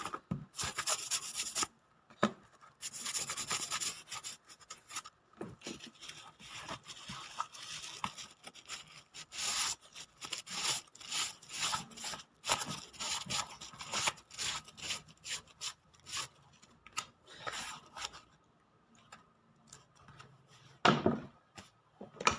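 A leather Hush Puppies shoe being cleaned and rubbed down before recolouring and polishing, giving a steady run of close scratchy scrubbing strokes with brief pauses.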